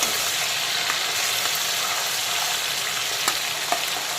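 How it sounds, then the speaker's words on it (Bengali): Stingray pieces frying in oil in a pan on high flame, a loud continuous sizzle close by with occasional sharp crackles and pops, no talking. "শঙ্কর মাছের উল্টো দিকটাকেও একইভাবে ভালো করে ভেজে নিতে হবে"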